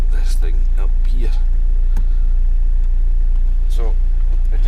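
A Vauxhall Omega 2.2 DTi diesel engine runs steadily with an annoying rattle, a loud constant low drone under someone talking over it.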